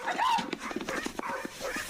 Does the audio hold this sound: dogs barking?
yes